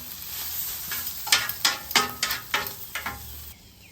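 Grilled onions and seasonings sizzle on a hot griddle under a soft, constant hiss, broken by a run of about eight sharp, rhythmic scraping strokes up close before the sound drops off.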